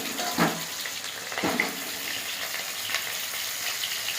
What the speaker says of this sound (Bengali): আলুতে জল দিয়েছে বলে চটপট চটপট করছে।